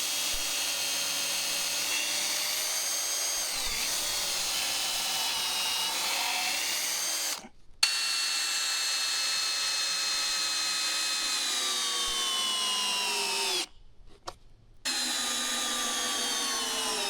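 A power drill whines steadily while pre-drilling holes in log rafters for a carport frame. It runs in long stretches with two brief pauses, and the pitch shifts slightly as the bit bites into the wood.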